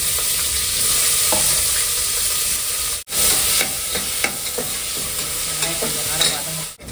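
Chopped onion frying in hot oil with cinnamon and cloves for a village-style dish makes a loud, steady hissing sizzle close up, broken by stirring scrapes and two brief dropouts.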